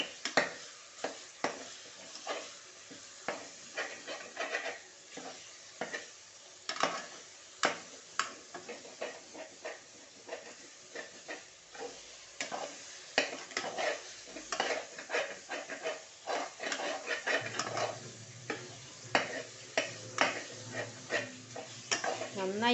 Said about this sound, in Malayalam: നന്നായിട്ടൊന്ന് വഴറ്റി കൊടുക്കുക